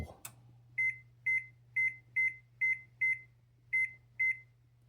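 An electric stove gives a bright, repeated beep as it is switched on and set to low, eight evenly spaced electronic chirps over a low steady hum, faint and close.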